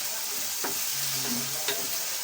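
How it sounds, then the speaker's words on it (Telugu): Tomatoes frying in a pan for a Godavari-style fish curry, a dense, loud, constant sizzle with a couple of brief spatula scrapes and a short low hum partway through. "టమాటా వేసి బాగా మెత్తగా మగ్గిన వరకు వేయించుకోవాలి"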